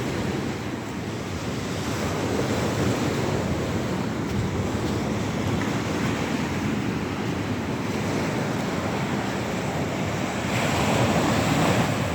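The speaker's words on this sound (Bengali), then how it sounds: "পানির কত বাতাসের কত শব্দ এখানে।" Water waves wash steadily with strong wind gusting across the microphone, a constant loud roar with no voices.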